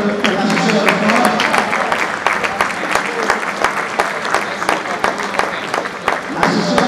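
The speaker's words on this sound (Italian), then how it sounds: "Un applauso per l'assessore allo sport." Spectators at a basketball trophy event in Reggio Emilia applaud the sports councillor, producing sustained, dense clapping from a large crowd with sharp individual claps standing out throughout.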